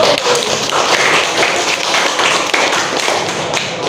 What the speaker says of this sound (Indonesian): dengan aplaus untuk kelompok 1